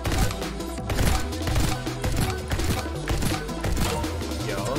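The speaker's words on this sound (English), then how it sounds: "The Soul Card fires like a machine gun" The Soul Card in Neon White firing like a machine gun, giving steady, loud bursts of rapid shots over busy game music and effects for several seconds.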